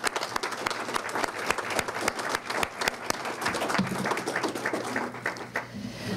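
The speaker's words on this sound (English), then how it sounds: "Please join me in giving them a round of applause." An audience at a ribbon cutting for a health professions school's practice center claps continuously, a dense crackle of many hands that thins toward the end.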